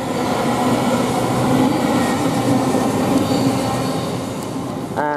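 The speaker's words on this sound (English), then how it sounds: "we've got this train now departing 800-006, which goes towards London Paddington" Train 800-006 departs Didcot Parkway towards London Paddington with a loud, steady rolling rumble and rattling wheels, close by, and a brief squeal near the end.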